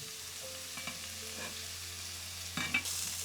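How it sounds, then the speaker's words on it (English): Vegetables with a bay leaf and crushed garlic sizzle quietly in a pan, a soft steady frying crackle with a few stirring scrapes and a louder burst near the end. "after the vegetables have been sizzling for a couple of minutes"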